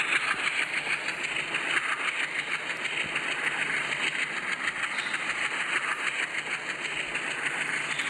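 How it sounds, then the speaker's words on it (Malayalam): A large train in an Indian train simulator video game hums and idles steadily at a low, even level, with a continuous engine drone and faint rhythmic texture and no talk. "ഇതാണ് നമ്മളെ ട്രെയിൻ."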